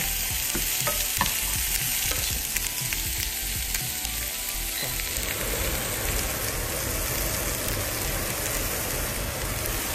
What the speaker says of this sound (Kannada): ಇದನ್ನು ಫ್ರೈ ಮಾಡ್ಕೊಳ್ಳೋಣ. ಫ್ರೈ ಹಾಕ್ತೀನಿ.